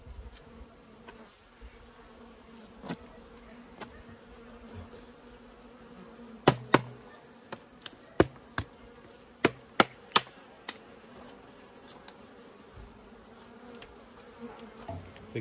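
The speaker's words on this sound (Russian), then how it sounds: "Убираем пчелу." Honey bees buzz steadily around an opened hive while a swarm is being united with a mite-weakened colony, a low continuous drone with a cluster of sharp taps and knocks from hive frames midway, no talking.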